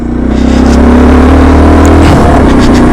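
A 2025 Yezdi Adventure motorcycle rides along a rough, patched village road, its engine droning loud and steady close by with a rising throttle swell at the start and a slight shift in tone near the end.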